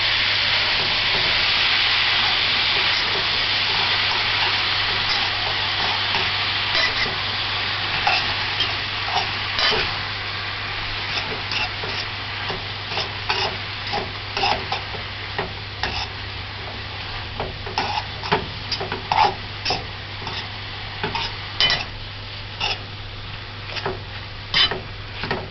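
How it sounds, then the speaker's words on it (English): Vegetables with carrots stir-fry in a pan for stewed cabbage, a continuous sizzle under clicky spatula scrapes and tosses that grow more frequent toward the end, with no talking. "The stir fry."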